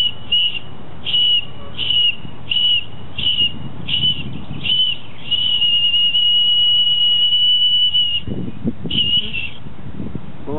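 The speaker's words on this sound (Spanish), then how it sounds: "producía un sonido muy estridente, muy fuerte" A shrill, piercing whistle from an ancient stone whistle, blown in a series of short repeated blasts, then one long sustained note, then a final short burst.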